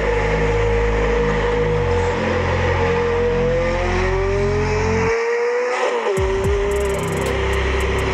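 A Fiat Uno races against a Camaro and other sports cars, engines roaring loudly as they rev and accelerate, with a sudden drop-off and shift partway through and a sustained rising engine note.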